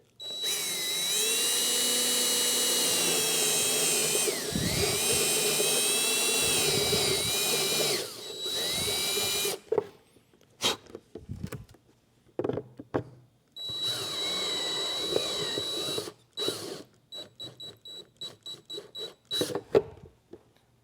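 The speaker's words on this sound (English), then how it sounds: "So try and stay perpendicular and just drill that hole slowly" A power drill whines steadily for several seconds, then stops and restarts in short bursts and spurts, close up, drilling a hole for a Spar trunk side light, with no talking.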